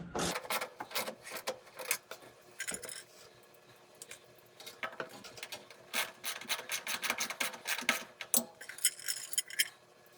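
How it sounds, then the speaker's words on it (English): A ratchet working bolts on the combustion blower motor of a Coleman DGAA056BDTA furnace, giving bursts of close, scraping clicks in an irregular rhythm with pauses between them. "Trade the T-handle for the ratchet, because I just don't have any room here."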